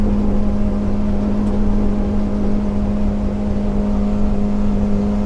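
Yamaha 90HP outboard on a 2010 Arima Sea Ranger 19 running flat out at about 32 mph near its rev limiter, a loud, steady, close droning hum with rushing wind and water, no talk.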